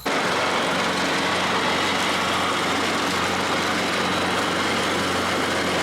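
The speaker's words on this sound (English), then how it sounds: "now it's just time to take the lawnmower and get rid of all this grass" A small lawnmower engine drones steadily and loudly throughout, an even buzzing hum with no pauses or voices, running nearby while cutting grass along a fence line.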